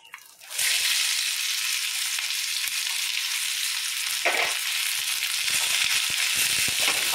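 Chopped onions hit hot oil in a pan for jackfruit curry, starting a loud, steady sizzle close by with occasional stirring scrapes and crackles.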